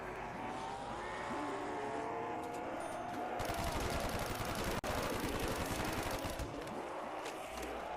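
Bursts of AUG rifle fire in a video game mixed with engine and battle noise, loud and dense, including one sharp crack partway through. No one speaks.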